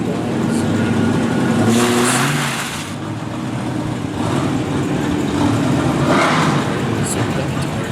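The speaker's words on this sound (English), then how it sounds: "So here we have a Hellcat quarter mile." A stock Dodge Hellcat on sticky tires accelerates through a quarter-mile run, its engine roaring steadily under someone talking, with the pitch swelling and easing slightly through the pass.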